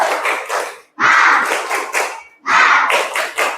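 A school class performs a rhythmic spirit clap at the end of a lesson. Three loud bursts of patterned, synchronized clapping from many hands are separated by short pauses.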